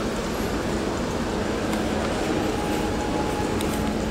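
Steady rumbling rail noise of a subway train fills the clip, a loud continuous roar with faint squeals and clicks, no talking.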